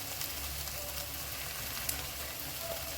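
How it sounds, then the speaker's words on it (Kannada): Chilli powder, garam masala and coriander powder fry in a pan for a chicken gravy, giving off a soft, even sizzle. The crackling hiss stays steady throughout, with no talking. "ಇದನ್ನು ಸ್ವಲ್ಪ ಹಾಗೆ ಲೈಟಾಗಿ ಫ್ರೈ ಮಾಡ್ಕೊಳ್ಳಿ"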